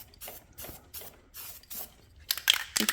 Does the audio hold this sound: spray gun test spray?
yes